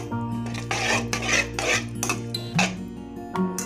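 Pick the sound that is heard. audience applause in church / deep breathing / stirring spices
stirring spices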